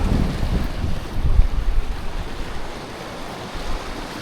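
Sea waves crash on the rocks at Harihareshwar in a dull, rumbling surge that is strongest early and then eases into a softer wash, mixed with wind noise.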